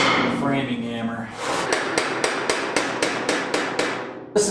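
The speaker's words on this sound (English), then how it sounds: "Always the framing hammer." A framing hammer strikes the rocker panel of an early Bronco during a restoration in a garage. About nine sharp metallic blows land in an even rhythm, close and loud, after a brief stretch of talking.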